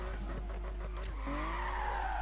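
Tires squeal and skid steadily over a droning engine as a car slides through a drift in the video game Need for Speed (2015), continuous and fairly close.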